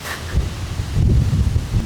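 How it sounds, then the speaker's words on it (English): Low rumbling gusts buffet the microphone outdoors, a steady roar of wind with a rustling hiss over it. "it's a really windy day, so I hope you're able to hear me just fine"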